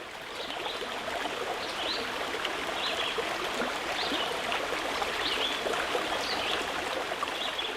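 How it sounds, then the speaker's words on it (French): Clear mountain river water running straight from its source high on the mountain, a steady, even rush of flowing water with no pauses and no voices. "Nous profitons de la fraîcheur de l'eau limpide de la rivière qui vient directement de la source du haut de la montagne"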